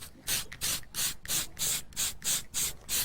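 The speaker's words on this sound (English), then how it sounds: "Don't spray it heavy. You just dust it like this." Short, hissing bursts of acrylic spray paint, dusted lightly onto a model town piece, repeat in a quick, even rhythm, about eight puffs close by with brief pauses between them.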